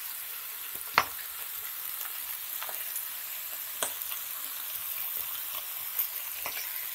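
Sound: stir-frying wood ear mushrooms with lime leaves

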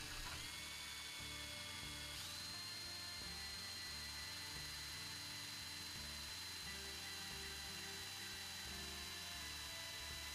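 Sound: drill press drilling holes in wood

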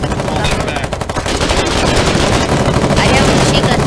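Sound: machine gun firing in video game Foxhole

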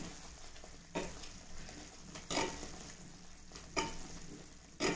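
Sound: ghee bubbling in pan while being made

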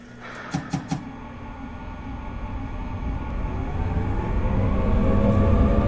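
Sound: Seoul Metro subway train departing from the station

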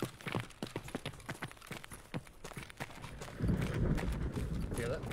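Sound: footsteps in a video game

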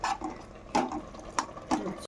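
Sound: water being drained out of soaked lentils

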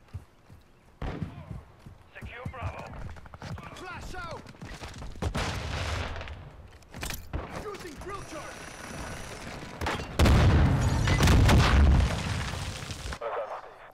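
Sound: gunfire in Call of Duty: Modern Warfare video game

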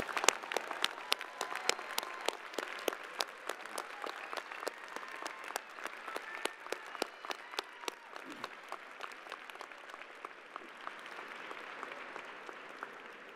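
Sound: applause at a commencement ceremony

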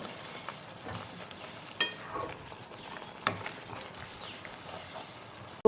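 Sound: stirring curry in a pan

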